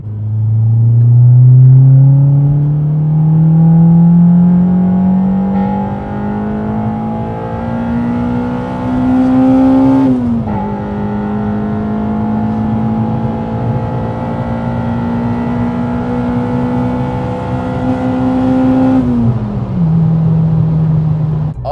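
A Honda Civic Type R EP3 with a SPOON N1 exhaust drones loudly, its engine rising steadily in pitch through two long pulls, each ending with a brief drop before climbing again.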